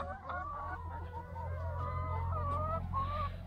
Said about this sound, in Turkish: Tavuklarımız da etrafta limon yiyorlar,